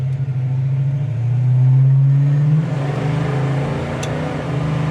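A 1970 Plymouth GTX rumbles loud and close as it drives through the gears, its V8 exhaust note rising under acceleration, easing at a shift, then pulling again with a steady deep drone.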